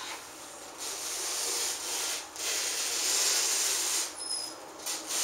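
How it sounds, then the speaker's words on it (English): Fabric is torn slowly along a folded seam, making a long, continuous raspy hiss that rises and dips for several seconds, close and fairly loud, with no speech. "pull my fabric slowly, making sure that I keep it right in that folded seam, and go ahead and split the fabric the entire length"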